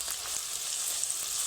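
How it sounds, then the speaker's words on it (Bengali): Thin bitter gourd slices frying all together in hot oil on a lit stove, giving a dense, steady, loud sizzle with no talking. "দেখলাম তেলটা আছে আর উনুনে আঁচটাও সুন্দর জ্বলছে, একসঙ্গে দিয়ে দিলে ভাজা হয়ে যাবে।"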